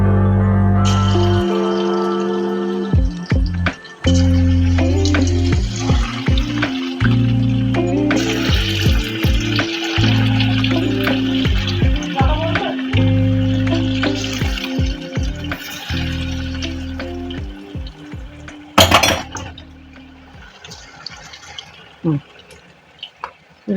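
Chicken pieces for chilli chicken sizzle and crackle in hot oil over a medium flame with a steady frying hiss, while a person talks over it for most of the time.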